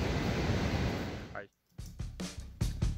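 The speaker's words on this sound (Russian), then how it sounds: "Абсолютно ничего не слышно, очень громкий водопад." Loud waterfall at the Girvas paleovolcano during a hydro plant water release: a dense, steady roar of rushing water that cuts off abruptly and gives way to speech.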